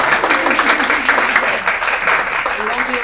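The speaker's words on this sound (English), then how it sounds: "Let's give a big round of applause." Audience applause at a chamber of commerce luncheon in Washington state, a steady dense wash of clapping across the whole stretch with voices mixed in underneath.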